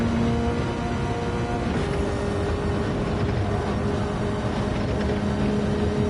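Racing car engine in Gran Turismo at the Nürburgring, a steady loud engine drone with rising pitch lines and a brief dip near the two-second mark as it upshifts, heard alone without talk.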